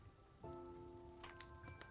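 Rain weather effect switched on in a video game, a steady wash of falling rain with a sustained tonal chime and a few brighter clicks layered over it, no talking.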